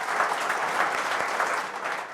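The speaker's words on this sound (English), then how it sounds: "give them a round of applause" A round of applause from a conference audience, dense steady clapping filling the room for a couple of seconds, fairly loud and close, with no talk over it.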